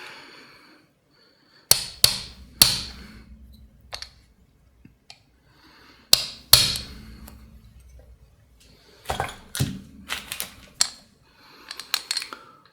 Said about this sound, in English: and a hammer to align it.